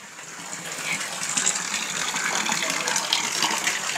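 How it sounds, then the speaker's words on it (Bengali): Water falls and flows at a stream in Fikkalay Gaon, Kalimpong, a close, continuous rushing gush that stays steady and fairly loud throughout. "দেখুন এখান থেকে জল পড়ছে।"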